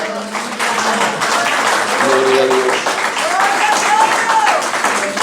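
Church congregation applauding during a sermon, broad steady clapping that fills the room, with voices calling out and a speaker talking over it.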